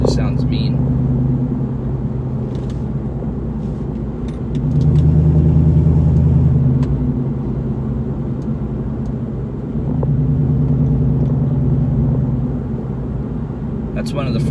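A New Edge Ford Mustang with a catless custom H-pipe, resonator delete and dual Black Widow mufflers gives a deep, steady exhaust rumble that swells louder twice as the throttle opens.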